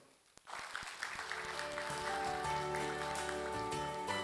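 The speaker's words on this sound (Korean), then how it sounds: "다시 한번 힘찬 박수를 부탁드립니다" An indoor audience at a workplace safety and health talk concert breaks into applause after a sharp start, the clapping building into a steady, dense crowd sound that continues to the end.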